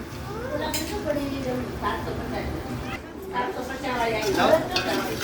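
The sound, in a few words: mixing chopped capsicum, cabbage and spring onions for veg crispy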